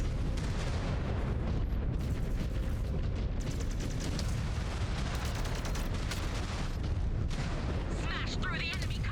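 Missile salvos and heavy explosions from mech combat in MechWarrior 5: Clans pound on as a dense, continuous roar, with a voice speaking over the barrage.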